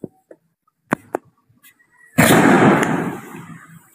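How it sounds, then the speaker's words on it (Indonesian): Scattered outdoor pops, then a burst of loud crackling fireworks, sputtering on for well over a second before fading, heard from a distance with no speech. "Loh, kok ada kembang api lagi ya?"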